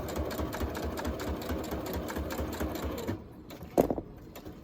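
A sewing machine stitches paper envelopes fitted with clasps, running in a steady rapid mechanical rhythm for about three seconds, then stopping, followed by a brief handling knock.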